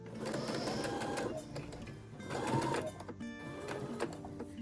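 Domestic sewing machine stitching a fabric frog toy, a close, moderately loud stitching whir running throughout with small pauses and shifts in pace as the fabric is guided.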